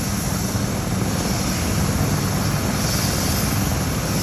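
A helicopter at Eisenhower Park gives off a loud, steady rotor and engine rumble with a broad whooshing drone that stays close and constant, with no talking.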